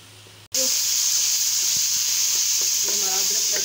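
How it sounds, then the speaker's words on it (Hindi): Ginger garlic paste for Lahori mutton karahi frying in a pan, with a loud, steady sizzle that jumps up after a brief gap and holds continuously, plus a few faint stirring knocks underneath. "इसको भूनेंगे थोड़ी देर, 2-3 मिनट तक इसको भून लेंगे"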